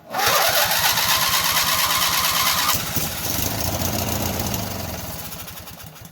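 An auction lawn mower engine, sprayed with starting fluid, fires and runs with a rapid, loud, close chugging. After about three seconds it drops to a lower, rougher note and slowly fades as it dies down.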